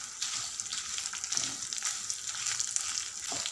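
Dried red chilies with their seeds frying in a pan for a chukkakura tomato chutney, a steady, close crackling sizzle that runs unbroken, with faint stirring scrapes and no talk.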